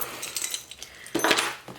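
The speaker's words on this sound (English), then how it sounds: "I kind of just grabbed the front door key and put them on my keys" A bunch of keys jangles close by, coming from a Fossil Sydney Satchel bag. A metallic clinking builds to a louder rattle partway through.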